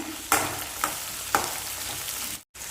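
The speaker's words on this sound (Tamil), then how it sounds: "வெங்காயம் வதங்கும் போதே பூண்டையும் சேர்த்து வதக்கிடுங்க" Small shallots and garlic fry in a pan for a Tamil elephant-foot yam kulambu, a soft steady sizzle broken by a few sharp stirring scrapes, then a brief dropout near the end.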